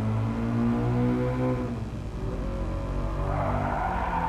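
A Subaru BRZ with a 2-litre 16V engine, in-car view in GT Sport at Tsukuba, drones steadily as its rear slides out, with a rougher scrubbing edge building toward the end.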